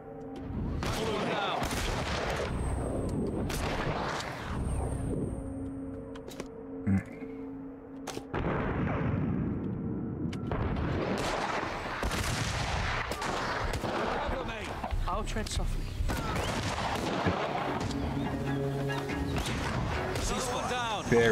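Gunfire in the video game Partisans 1941, repeated loud shots and bursts in clusters amid game sounds, with a voice talking over much of it.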